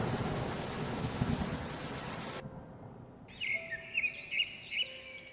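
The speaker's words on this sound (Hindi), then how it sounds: "तेज हवा चलने के बाद बरसे बादल किसानों पर आफत बनकर टूटे।" Heavy rain roars steadily under a thunderstorm, then cuts off into quiet where soft bird or owl-like calls and low rumbles take over.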